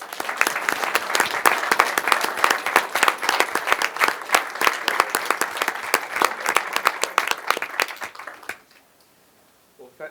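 Audience at a school board of education meeting bursts into sustained, dense applause for honored students. Many hands clap close and loud for about eight seconds before the clapping stops abruptly into near silence.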